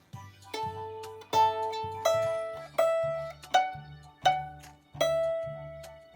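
A violin plays the opening of Twinkle Twinkle Little Star, a short, simple melody of sustained bowed notes, steady and clear, with brief gaps between phrases and no talking.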